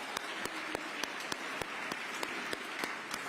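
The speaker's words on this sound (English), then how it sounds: "Let's give our airmen a round of applause." Applause from the audience at a Veterans Day ceremony in New York City honoring Air Force airmen, heard as a soft, fairly distant crowd sound broken by sharper individual claps, steady across the moment.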